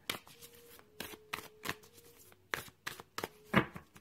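Thick angel reading cards are shuffled by hand in a quiet room, giving a string of close, crisp riffles and soft slaps in an uneven rhythm, with no other sound around them.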